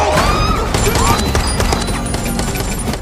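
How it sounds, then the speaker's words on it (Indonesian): Rapid gunfire crackles through a film shootout, dense overlapping bursts of shots under loud action and voices, sustained and close for the whole stretch. "Venegas dan Claire lalu pergi ke taman untuk menonton tentaranya baku tembak dengan pasukan Koe"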